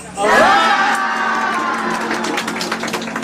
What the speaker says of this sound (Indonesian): Muliakan Tuhan, sorak hosa.